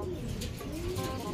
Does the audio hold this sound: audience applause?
no